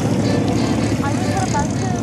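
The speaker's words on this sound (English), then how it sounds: "it is an instructional aircraft." Propeller-driven instructional aircraft at a 2014 air show in Atlanta, Georgia: a steady engine drone with a faint rising whine, heard at a moderate distance while people talk nearby.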